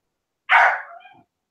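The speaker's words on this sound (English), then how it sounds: "Why is my dog barking?" One loud, close dog bark rings out sharply and then trails off into a brief whine, with silence before and after it.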